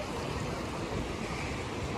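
Sea waves washing onto a beach at sunset, a continuous broad wash of surf mixed with wind noise, fairly faint and steady with no talking.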